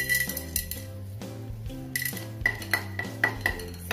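Metal utensils clink and scrape against a pan frying pepper and cumin in a short flurry of sharp, close taps, with a low steady hum underneath.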